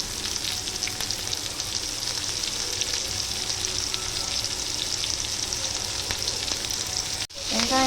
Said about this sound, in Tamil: வெங்காயத்தை வதக்கிக்கலாம்.